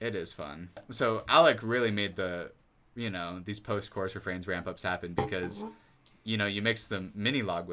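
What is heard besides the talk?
No everyday noise stands out behind the speech.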